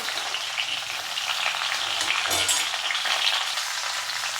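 Raw banana, drumstick pieces and pointed gourd stir-fried in hot oil for a Bengali shukto, giving a steady, loud sizzle throughout with brief bursts of stirring, and no voices.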